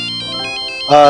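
A mobile phone ringtone plays a short, repeating melodic pattern of bright electronic notes, loud and near, before a sudden louder burst cuts in at the end.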